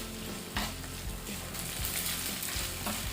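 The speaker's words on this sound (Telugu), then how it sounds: "వన్ టేబుల్ స్పూన్ అల్లం పేస్ట్ని వేసి పచ్చి వాసన పోయేంత వరకు వేయించుకోవాలి" Ginger paste fries in a pan with green chillies and curry leaves for a Chettinad chicken fry, giving a loud, continuous close-up sizzle broken by scraping stirs.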